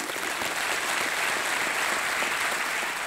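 Studio audience applause on a television quiz show, a continuous even wash of clapping from many hands, fairly loud and sustained for about three seconds with no speech over it.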